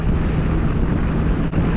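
Loud, continuous wind roars across the microphone while riding a Kawasaki Vulcan Custom 900 motorcycle, a dense rumbling buffet with no talk, steady throughout.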